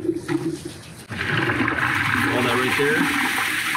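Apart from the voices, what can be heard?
RV black tank sewage gushing into drain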